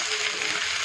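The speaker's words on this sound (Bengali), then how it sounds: "হালকা একটু ভাজা হয়ে আসছে" Chicken fries in a pan for chicken gosht, a loud, continuous close-up sizzle lasting under a second and ending in a sharp clack.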